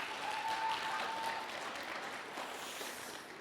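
Children clapping their hands loudly at a church gathering, a dense, even wash of applause holding steady throughout, easing off only slightly toward the end.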